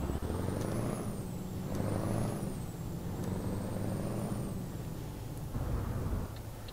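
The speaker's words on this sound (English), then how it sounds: "This is actually an open pipe sound for the truck." A heavy Scania 143M truck engine in Euro Truck Simulator 2 rumbles and drones with a raspy, open-pipe exhaust tone, revving and settling, with a faint high whine above.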